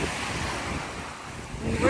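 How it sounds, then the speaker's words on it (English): Ocean tide surges in among the rocks at Hopewell Rocks, a steady rushing wash of surf with heavy wind buffeting the microphone, building slightly toward the end. "tide is coming in, getting closer and closer"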